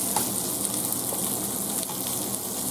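Homemade pork sausage links fry in a pan, giving off a steady close sizzle and crackle that runs without a break and with no voices.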